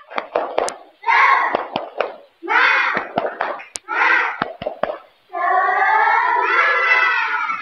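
A primary school class performs the tepuk semangat rhythmic clapping ice breaker, sharp hand claps in quick patterned bursts alternating with children chanting loudly together.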